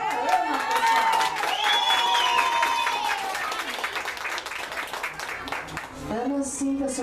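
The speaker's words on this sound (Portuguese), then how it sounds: "Aplausos para a Ana, pessoal." Audience applause and cheering at a surprise tribute event in Guaianazes, São Paulo's east side, sustained clapping and crowd noise mixed with voices and some music, loud and steady for about six seconds before a louder burst at the end.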